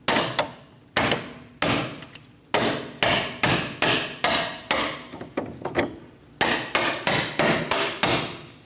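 A hammer strikes a punch to drive a shock bolt through a lower control arm on a Dodge Durango, with a long series of sharp metallic blows, some quickly repeated and others spaced apart, close and loud with no speech.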